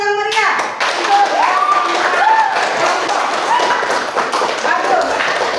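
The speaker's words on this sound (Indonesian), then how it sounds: "aplaus yang meriah untuk" Classroom applause from a group of pupils, a dense, continuous patter of many hands clapping together close by, with children's voices calling out over it.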